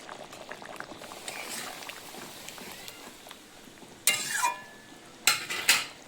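Fish and taro curry bubbles in a pot, a soft simmer close by, broken near the end by two louder bursts of clattering and stirring against the pot.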